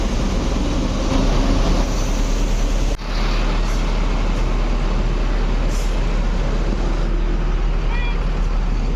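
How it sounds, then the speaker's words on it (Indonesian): Several ANS coach buses pull away from a depot, their engines rumbling loudly and steadily throughout, with a sharp air-brake release hiss partway through. "Tiga unit bus ANS berangkat."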